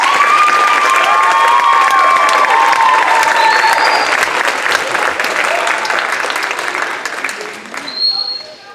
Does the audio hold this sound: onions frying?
no